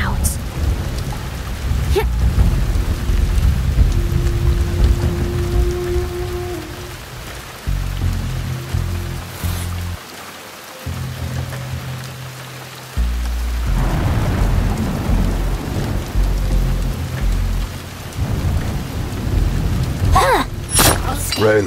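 Steady rain pours with rolling thunder rumbling in the Shadow Tactics game, the downpour loud and continuous while low booms swell, drop out briefly, and return.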